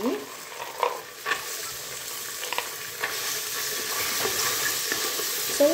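Green peas frying in a pan for mushroom pulao, a close crackling sizzle broken by several scraping stirs, building to a fuller hiss toward the end.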